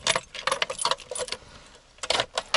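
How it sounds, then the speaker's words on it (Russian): Car keys jangle and clink near the ignition of an old ZAZ 968 on a cold winter day, a busy metallic rattle in bursts, a quieter pause, then more jingling, with no talking. "Вставляем ключ."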